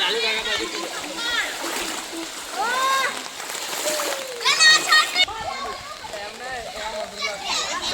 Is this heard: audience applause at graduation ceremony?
no